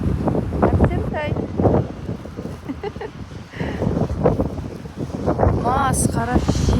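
Strong, cold wind batters the microphone in gusty, uneven bursts outdoors in a snowy Astana winter, while people talk through it.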